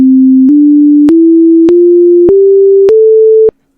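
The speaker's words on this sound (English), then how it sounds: "can you make an audio sequence translation of this message of the alien symbols?" Synthetic audio rendering of an alien symbol message: a steady pure tone stepping upward in pitch every half second, each step marked by a sharp click, seven steps, loud and alone, then abrupt silence.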